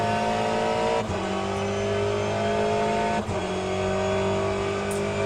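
A race car engine in the sim-racing game Le Mans Ultimate drones loud and steady from the cockpit, holding a constant pitch with two brief gear-shift dips, one around the first second and another near the third.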